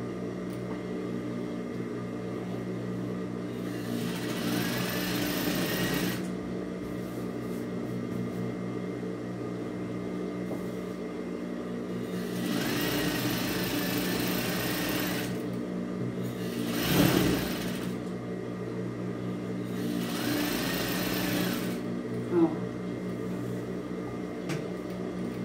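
A sewing machine stitches a towel in bursts, its motor whirring for a few seconds at a time between pauses, with a steady low hum underneath and occasional clicks.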